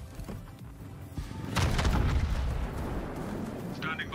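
Main battery salvo from a battleship in World of Warships fired at the Hindenburg, a heavy rumbling boom that swells up and rolls on under game noise, with a distant voice over it.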